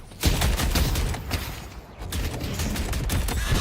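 Rapid turret fire during a World of Warcraft battle, a dense stream of loud, close shots blurring into a continuous rattling barrage that briefly dips before surging again.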